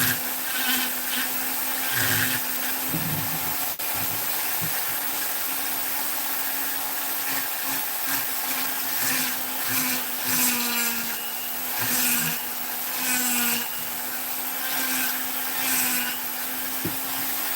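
A high-pitched flex shaft rotary tool whirs steadily for a long stretch while carving oak, its motor pitch wavering slightly as it bites into the hard wood, with brief dips and surges.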